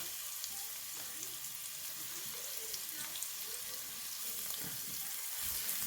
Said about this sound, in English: I'm waiting for the onions to caramelize a little bit more and get a little more transparent